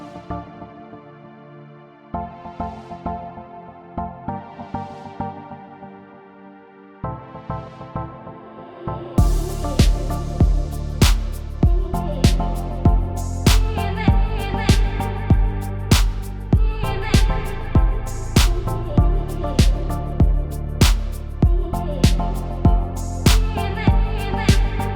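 A chill dance type beat built in Studio One 4 opens with a sparse, soft melodic intro, then drops into full drums, bass and layered synths hitting in a steady, driving rhythm, loud and dense, with no voices.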